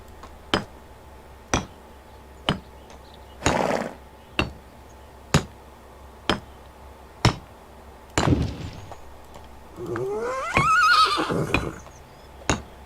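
A video-game horse whinnies loudly twice near the end, after a steady series of sharp clicking beats at roughly one-second intervals.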